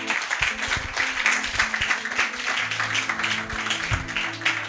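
Applause from a church congregation during a French-language Bible teaching, steady dense clapping across the whole stretch with no voices over it.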